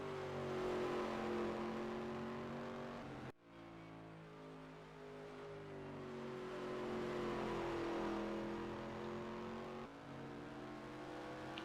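Sprint race trucks run at a qualifying event, their engines droning steadily and rising in pitch through a turn, with a brief gear-change dip, faint and distant.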